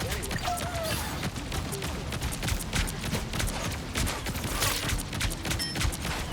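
Fireworks ability attack in the Marvel Rivals video game: a dense, continuous barrage of crackling bursts and pops rolls on for several seconds over a loud, busy game mix, with rapid explosive transients throughout.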